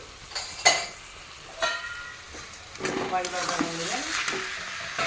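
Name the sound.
stirring cabbage with salt in a pan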